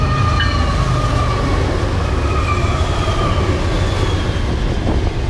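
A Metrolink commuter train rolls steadily along banked track, its loud continuous rumble joined by faint high wheel squeals that rise and fall throughout, with no voices over it.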